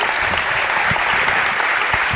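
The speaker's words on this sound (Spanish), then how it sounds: "Un aplauso para ellos, por favor" Audience applause fills the room, a dense and steady wash of clapping hands heard up close that keeps going without a break.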